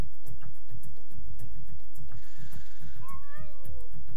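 A cat meowing in the video game Bad Rats, a drawn-out rising and falling meow near the end over steady, rhythmic game music, loud and close.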